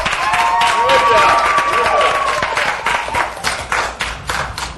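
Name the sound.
audience applause for Eric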